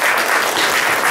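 Audience at a business networking event applauding, a dense burst of many hands clapping together that holds steady and fairly loud for its whole short length, with no voices over it.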